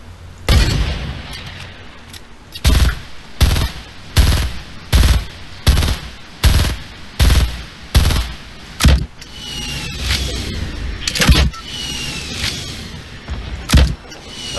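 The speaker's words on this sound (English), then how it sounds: "I'm launching rockets to them." In Fortnite Battle Royale, rockets are launched in a rapid series of about a dozen loud, sharp, evenly spaced blasts, followed by a few scattered shots and whooshing sounds.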